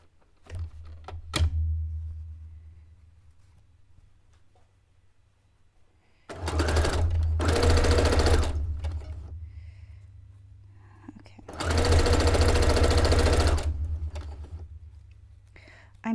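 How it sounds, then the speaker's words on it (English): Two bursts of a sewing machine running straight seams on a cape, each a few seconds long and close by, separated by quieter gaps with small handling noises. "I am so over sewing straight lines"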